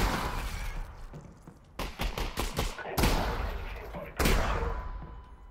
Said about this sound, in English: God, I love shooting the combine.